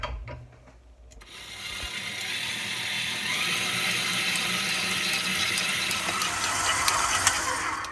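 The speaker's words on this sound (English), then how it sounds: "I'm just going to mix this with the flat paddle attachment, not the dough hook, but the flat paddle attachment for 1 minute" Stand mixer turning ciabatta dough with a flat paddle attachment, a steady whirring motor hum with rhythmic mechanical churning and slapping that runs continuously after a brief start, close and even in loudness.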